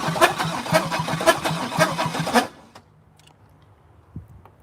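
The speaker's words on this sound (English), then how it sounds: "even if you go to basically just bypass everything just to get the engine to fire up, it should fire up with no problem." Pontiac G8 engine with a bad PCM cranks rhythmically for over two seconds, loud and close, then cuts out without firing, leaving near silence with a few faint clicks.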